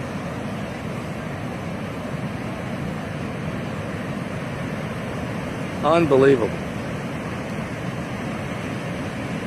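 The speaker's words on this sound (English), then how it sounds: "Just roaring. The seas are roaring." Roaring ocean waves under low clouds rumble as a steady, broad wash of surf noise with no let-up; someone briefly speaks over it partway through.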